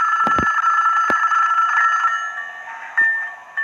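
A toy telephone rings with a bright electronic trill, sharp clicks at the start, then the tone continues and shifts pitch near the end, loud and alone.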